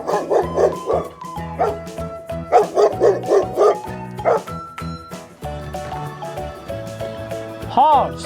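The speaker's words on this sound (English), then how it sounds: "Dog, sweet dog," A dog barks in quick bursts of yips and woofs, several clusters of sharp barks close by with short gaps between them, followed by softer whimpering tones near the end.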